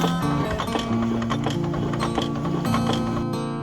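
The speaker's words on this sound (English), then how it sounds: "our machines are capable of running anywhere up to 600 pieces a minute" Cold forming machines forge wire into rivets through a series of dies at up to 600 pieces a minute. The result is a dense, rapid clatter of rhythmic mechanical knocks and ratcheting, loud and continuous, with no voices.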